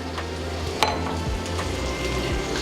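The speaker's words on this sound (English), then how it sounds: "we're gonna go ahead and put our andouille sausage in" Andouille sausage sizzles in a hot pot for a one-pot chicken jambalaya, with a steady frying hiss, a sharp clink near the start and soft scraping stirs throughout.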